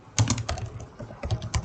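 Keys clatter on a computer keyboard in quick irregular bursts of clicks, close and distinct, with short pauses between the clusters of keystrokes and no voice.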